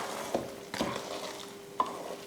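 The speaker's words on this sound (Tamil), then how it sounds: "இன்னும் கொஞ்சம் புளி கரைச்சி ஊற்றணும்," Tamarind extract stirred into hot oil in a large pot for tamarind rice, a soft continuous sizzle with a few sharp clinks and scrapes of a ladle against the vessel.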